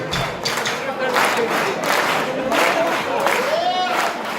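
An audience at the Outono Códax 2018 event clapping along in a steady rhythmic beat, a broad crowd sound with scattered voices and cheers mixed in, moderately loud and continuous.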